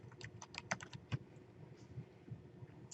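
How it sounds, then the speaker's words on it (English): Close keystrokes on a computer keyboard as a title is typed in, coming in quick irregular bursts of light clicks with short pauses, no talking. "so we'll go ahead and type in test student narrative"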